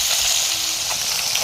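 Large fish pieces frying in hot oil in a home kitchen, a loud, even, hissing sizzle close up with faint crackles throughout.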